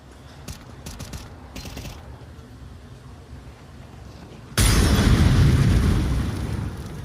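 A grenade goes off in the competitive Counter-Strike 2 match, a sudden loud burst after a quiet stretch of keyboard clicks, followed by a sustained roaring rumble that slowly fades.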